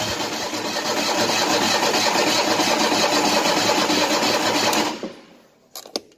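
An Exmark Navigator mower engine that has sat a while fires and runs at a steady, loud, busy idle for about five seconds, then cuts off abruptly, leaving a few faint clicks and knocks.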